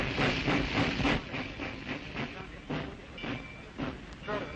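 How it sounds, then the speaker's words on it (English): Steam train hauling packed railroad cars on a crude 1930s railway toward the port of Djibouti, Ethiopia; a steady rumbling roar with hiss and a loose clattering rhythm of wheels, fairly loud and continuous throughout. "Jammed trainloads. On their way to safety, taking the long trail, the crude Rattler Railroad Trail to the French port of Djibouti"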